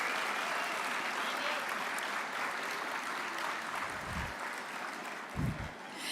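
Dinner audience at a benefit banquet applauding in a steady round of clapping that holds throughout, with a couple of brief low thumps near the end.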